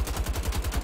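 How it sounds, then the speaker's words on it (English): Rapid repeated gunfire in the video game Wolfenstein: The Old Blood, a dense burst of about a dozen shots in quick succession, loud and close, with no talking. "So I think you gotta shoot this dude in the mouth"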